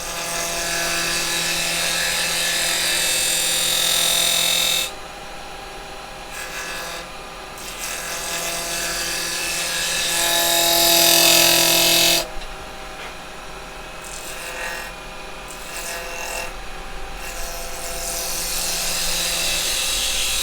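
Wood turning on a lathe with a carbide chisel: continuous rough scraping and hissing of the tool cutting spinning wood over a steady motor hum, loud and close, rising and easing in bursts as cuts start and stop.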